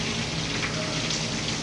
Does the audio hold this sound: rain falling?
yes